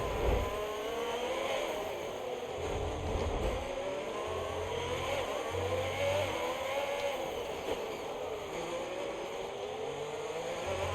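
Race car engines in the EA Sports Braking Point racing game whine and rise in pitch as the car accelerates through corners, a steady mechanical drone heard at moderate level without speech.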